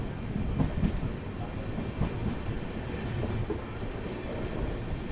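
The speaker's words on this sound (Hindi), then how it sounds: "ये तुरंत क्रॉसिंग के बाद अपनी ट्रेन निकल चुकी है नांदीकुंडी जंक्शन से" A superfast express train pulling away from Nandikundi Junction after a crossing: a close, continuous low rumble with faint wheel clatter that holds steady, with no voices.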